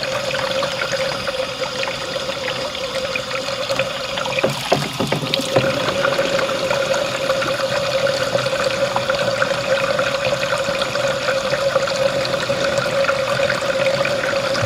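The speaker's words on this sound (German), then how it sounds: "jetzt kann ich in die Kassette ein wenig Wasser einfüllen" Steady water pouring and splashing into a camper van's cassette toilet tank, a continuous trickling rush with a brief sloshing burst partway through.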